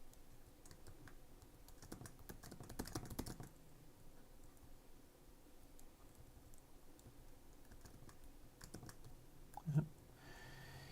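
Fingers type on a computer keyboard in irregular quiet bursts of clicky keystrokes, close by, with brief pauses and a slightly louder flurry partway through.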